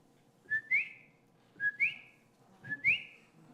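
A voice whistles an imitation of the coquí frog's nighttime call from Puerto Rico, three short two-note chirps, each a brief steady tone followed by a quick rising sweep, evenly spaced and fairly close with no talking.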